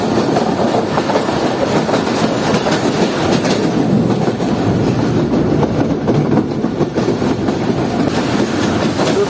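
A passenger train on the Jand line rolls toward Jhalar railway station with a loud, steady rumble and rhythmic clickety-clack of wheels running continuously throughout.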